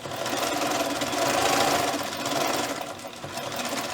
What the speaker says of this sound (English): get a little stitch on them just so they don't go anywhere.